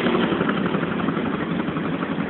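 A massive single-cylinder Lanz Bulldog vintage tractor idles close up at a machinery rally, a loud, steady, pulsing thump with heavy vibration.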